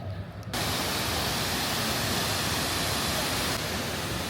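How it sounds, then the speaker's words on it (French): A steady, dense roar of falling water fills the air, loud and continuous, with no voices present. "Nous sommes arrivés aux cascades."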